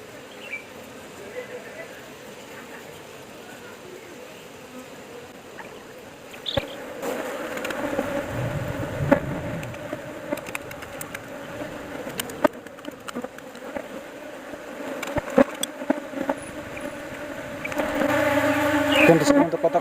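Bees from a queenless colony buzz around an opened wooden hive box in a steady, close drone that swells louder toward the end, with voices talking at times over it.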